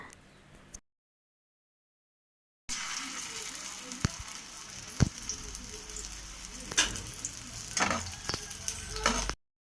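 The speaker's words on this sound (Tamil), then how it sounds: "தேவையான அளவுக்கு நல்லெண்ணெய் ஊற்றி நல்லா காய விடுங்க." Sesame oil heats in a pan for village-style cooking. A brief sizzle cuts to silence, then a continuous crackling sizzle returns with sharp pops and clinks.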